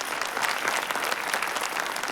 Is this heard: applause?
yes